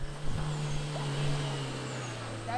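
Engine of a car stuck on a rough dirt road in rally-style driving on São Tomé island, droning steadily with a strained low hum throughout, no speech over it.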